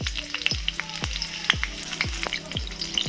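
Green chilies and bay leaf frying in hot oil, a loud steady sizzle broken by repeated sharp crackling pops at roughly half-second intervals, close and with no voices.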